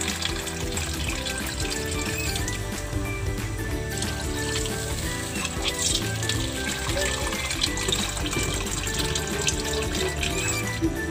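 Water runs and splashes continuously into a cooking pot of humba or adobo, a steady close-up pouring sound that lasts the whole stretch with no voices.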